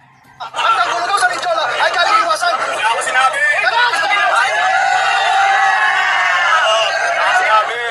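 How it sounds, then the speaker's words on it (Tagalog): A crowd of angry rallyists shouts and jeers at a news reporter, loud overlapping voices and yelling filling the whole stretch after a brief quiet start, close and continuous. "pakinggan natin ang sigawan."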